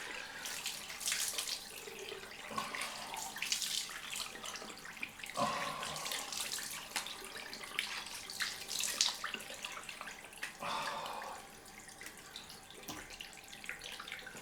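Tap water running into a bathroom sink for a cold rinse after a shave with a Rockwell 6S razor, a faint steady stream with splashy bursts as hands dip in and out, recorded close but quietly.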